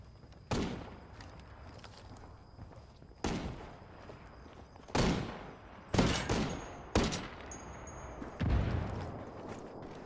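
Gunfire in the player-versus-player mode of the video game Ghost Recon Wildlands: several sharp, echoing shots and short bursts fire at irregular intervals, fairly close and punchy over a quiet background.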